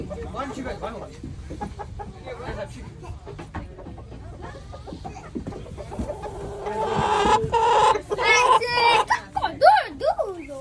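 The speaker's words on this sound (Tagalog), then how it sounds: "Did you see the chicken? Look at that chicken." A chicken clucks outdoors on a farm, its short repeated clucks rising toward the end, mixed with people and someone talking nearby.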